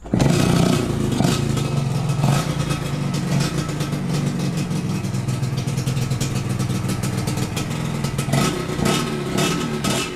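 A Yamaha RXZ motorcycle, freshly overhauled, runs with a loud, close, steady exhaust note, idling with a continuous rumble and clatter throughout.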